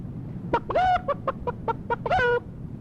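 A hen cackles after laying an egg, close and clear: a quick run of sharp clucks broken by two drawn-out, rising squawks, with no voices over it.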